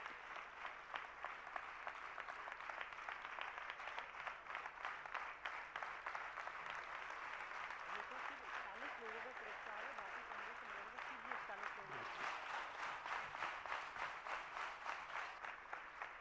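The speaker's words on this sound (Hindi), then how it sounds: "जरा एक बार जोरदार तालियां बजाइएगा" An audience at a religious gathering in Agra gives sustained, even applause, steady crowd clapping that continues without a break.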